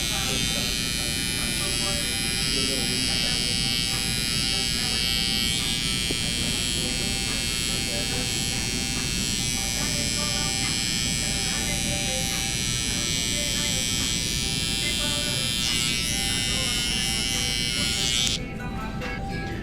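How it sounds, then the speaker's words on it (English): An electric shaver buzzes steadily and loudly without a break, run up to a freshly traced lineup around the ear while finishing a young barber's burst taper fade; the hum cuts off near the end. "I would typically use my shaver and just go up to the line that I created"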